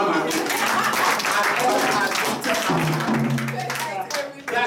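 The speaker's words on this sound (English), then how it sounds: "Let's clap for Amma." Clapping from a church congregation for Amma, a quick rhythmic patter of many hands mixed with voices and ringing tones, fairly loud throughout.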